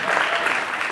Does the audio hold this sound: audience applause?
yes